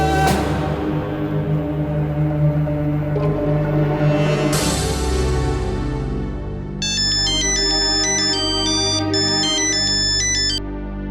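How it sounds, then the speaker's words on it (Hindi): A phone ringtone for an incoming call plays loud and close for several seconds as a sustained, layered electronic melody, with a bright, bell-like repeating pattern joining near the end. "तुमने एक ही रिंग में मेरा फोन उठा दिया"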